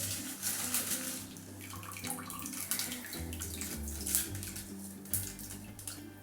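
Running water splashes steadily while a plant pot is rinsed, with a low hum underneath and no talking.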